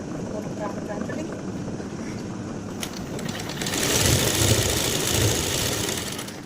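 A sewing machine stitches pant fabric with a steady mechanical whir that grows louder and busier partway through, while a person talks over it.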